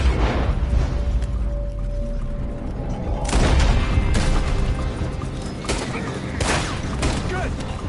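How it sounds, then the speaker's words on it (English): Gunfire in the video game Red Dead Redemption 2, several sharp shots and booms over a dense, noisy battle backdrop, with voices shouting over the fighting. "Arthur, stick to the one shooting at us"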